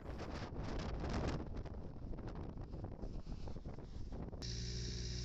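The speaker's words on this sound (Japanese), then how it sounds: "強風注意報" Strong gusts of wind on a pumpkin field during a strong wind warning buffet the microphone in a loud, rumbling roar, easing slightly before an abrupt shift to a steadier hiss.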